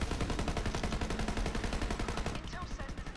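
The Maggie pistol in the video game Borderlands 3 fires a rapid, loud stream of evenly spaced shots for over two seconds, then a few scattered impacts follow.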